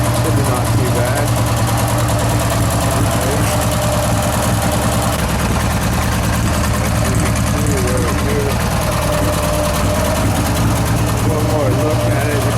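A homemade racing mower's small engine runs steadily, a loud, even mechanical drone with a rapid rattling pulse that holds unchanged from start to finish.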